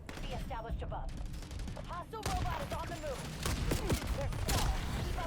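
Rapid gunfire from the video game Black Ops 7 rattles in quick bursts and single cracks against game effects, fairly faint, with voices talking over it.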